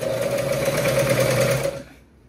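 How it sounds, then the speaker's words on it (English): A Conso CP206RL heavy duty industrial sewing machine stitching a garment, with a fast, steady mechanical whir running close and loud for almost two seconds before it winds down and stops. "we're using the Conso heavy duty industrial sewing machine"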